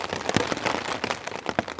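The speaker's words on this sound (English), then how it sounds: "I think I'll go to sleep and just enjoy listening to this rain." Rain patters steadily on a Hilleberg Niak tent during a wet, windy wilderness camp, with scattered sharper drops striking the fabric up close throughout.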